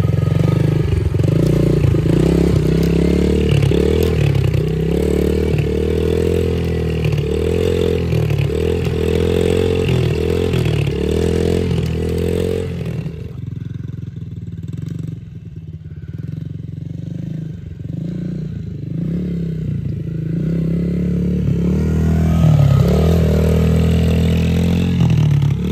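A Yamaha TT-R110 dirt bike ridden by a young learner, its small engine droning loud and close with rhythmic throttle pulses, then dropping to a low idle before revving back up.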